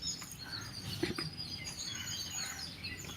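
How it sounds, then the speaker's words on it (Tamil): Faint, scattered chirps from several small babblers, thin and high-pitched against a steady hum of outdoor background noise. "தவிட்டுக்குருவி"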